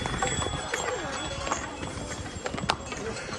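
Steady hoofbeats of horses carrying pilgrims up the mountain path from Gobind Dham toward Hemkunt Sahib. The close, clattering clip-clop sounds under faint voices and general trail bustle.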